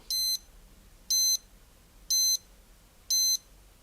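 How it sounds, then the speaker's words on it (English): A Citizen Arnie 8952 watch timer alarm sounds four loud, crisp electronic beep bursts, each lasting about a quarter second and spaced roughly a second apart, over a quiet background. "There is the timer going. I think it's for 10 seconds. That is quite loud."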